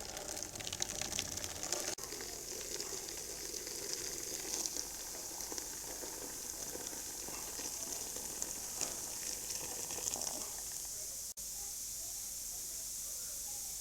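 Hot water from a jug poured onto sodium percarbonate brewery cleaner, producing a soft continuous fizzing hiss with faint bubbling and a couple of small knocks, quiet and close throughout.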